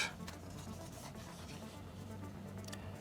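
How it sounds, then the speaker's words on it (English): A fountain pen filled with Private Reserve Orange Crush ink scratches across Rhodia paper, a soft continuous rubbing with small strokes, close and quiet with no voices. "let's check out how does the Orange Crush writes on a Rhodia paper"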